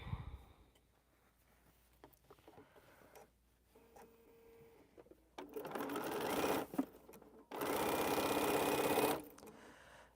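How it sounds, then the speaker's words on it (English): A sewing machine stitches a quilt piece in two long, loud bursts of rapid mechanical chatter, preceded by quieter handling clicks and short starts, close by with no speech. "take the last one and just sew the piece on there"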